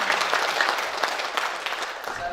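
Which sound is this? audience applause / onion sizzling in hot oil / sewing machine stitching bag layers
audience applause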